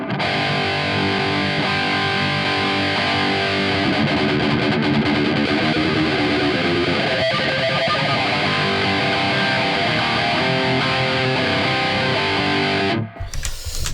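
A loud, continuous distorted electric guitar tone through a Valeton GP200 multi-effects patch, thick and heavily effected with steady sustained notes, cutting off abruptly near the end. No voices.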